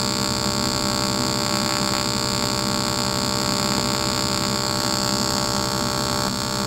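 Aluminum being welded at about 100 amps gives off a steady electrical hum and buzz, close and unbroken, with no voices.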